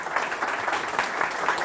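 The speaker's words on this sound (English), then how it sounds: "give Sean a big round of applause" A steady wash of applause from a crowd at a National Mustang Day interview event, dense clapping at an even level throughout the short stretch.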